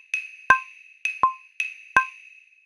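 Son clave struck on wooden claves playing the three-side triplet figure in Latin music: five sharp, bright wooden clicks in an uneven triplet-feel rhythm, close and clear with no voices.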